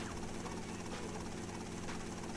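A helicopter in the video game GTA Vice City Stories, its steady rotor and engine drone running continuously and fairly loud, with a low rumble underneath and no talk over it.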